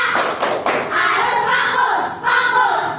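A class clapping in unison through a short 'tepuk fokus' clap routine in a school lesson, with a few sharp rhythmic group claps early on followed by steadier clapping and some voices, loud and close.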